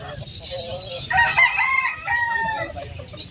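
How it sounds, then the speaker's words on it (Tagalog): Rooster at a pet market in Malabon crowing, a drawn-out strident call rising and holding for about two seconds, close and loud over busy market murmur. "Grabe yung manok na to, oh. Kakaiba"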